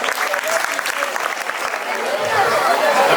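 Loud, steady applause from a crowd at a school cultural program with a puppet show, sustained and dense throughout, with faint chatter mixed in.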